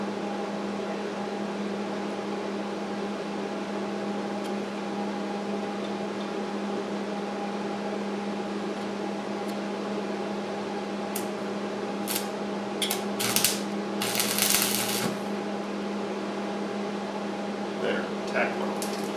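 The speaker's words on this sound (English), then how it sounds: "I'm trying to get a tack weld started just by closing my eyes as I get ready to make contact" A stick welder hums steadily while a tack weld is struck, then crackles and sizzles in several short, sharp bursts near the end, close by against a constant electrical drone.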